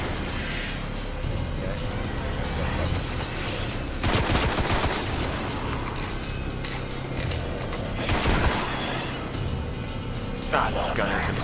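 Rapid gunfire from a weapon in the Destiny shooter game, crackling in dense bursts over busy game noise, with louder volleys around the middle and near the end.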